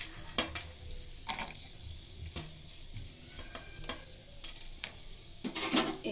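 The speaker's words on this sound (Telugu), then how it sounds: "జీడిపప్పు వేయించడానికి ఒక 2 స్పూను నెయ్యి వేసినానండి. ఇప్పుడు దీంట్లో మనం జీడిపప్పు బాదాం అని వేస్తామండి." Cashews and almonds fry in about two spoons of ghee with a soft crackling sizzle, while a spoon clicks and scrapes against the pan in irregular strokes, close and fairly quiet.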